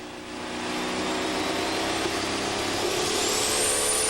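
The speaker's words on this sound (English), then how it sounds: "Listen to those revs come up as Sharon pulls the left foot slowly off the clutch." A pulling tractor engine roars steadily and loud at a tractor pull, its pitch climbing slowly near the end as the revs build while the clutch is eased out, with no voices over it.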